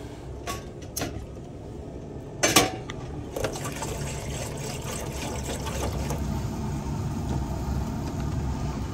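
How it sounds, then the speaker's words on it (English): Water is poured and filled into a pot at a campsite, a steady splashing trickle with a few sharp clanks of metal, heard outdoors with light background noise. "First thing I wanna do is get that water boiling"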